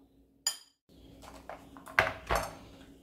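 A spoon mixes a dessert in a bowl, lemon juice having been added to the fruit, giving a few sharp clinks and scrapes against the dish with short quiet gaps, close and fairly soft.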